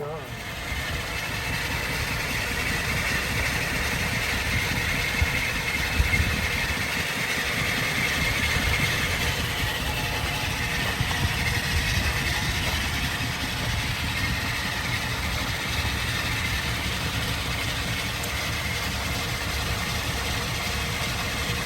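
A 1949 Lincoln Cosmopolitan with a 347 cubic inch V8 idles steadily and fairly loud throughout, a continuous low engine rumble, with people talking over it at times.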